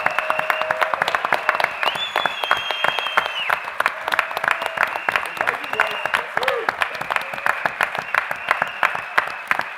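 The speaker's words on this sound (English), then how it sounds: "we all owe them a very loud round of applause for that" Steady, loud audience applause fills the room at a live music industry jam event, dense rapid clapping continuing evenly throughout with a few whistles and a voice or two rising above it.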